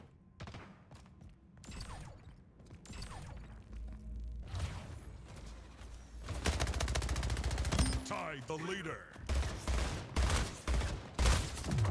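SMG gunfire in the video game Splitgate comes in rapid bursts, with a long sustained spray near the middle. Impacts and whooshes mix in, and a player talks over parts of it.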